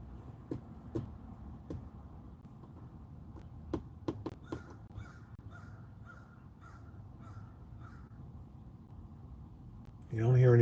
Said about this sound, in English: All you hear is the darn crows